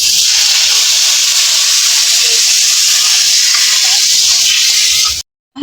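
Chili powder, salt, cumin paste and green chilies fry in a hot pan with a loud, steady sizzle and hiss that runs unbroken for about five seconds, then cuts off abruptly into brief silence.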